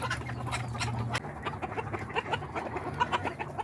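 A drake scuffling with several roosters in a backyard flock: close, busy clucks and squawks in quick irregular bursts, with flapping and scrabbling between calls and no talk.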